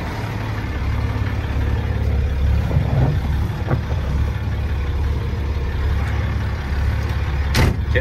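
A Unimog 416 truck engine running in low range, a loud, steady diesel rumble with a few small clunks and rattles, heard without talk.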